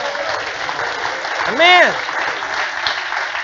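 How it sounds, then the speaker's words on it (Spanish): A church congregation applauds during a Spanish-language sermon by a pastor, a steady wash of clapping from the room while a voice calls out briefly over it. "Dele ese aplauso al Señor."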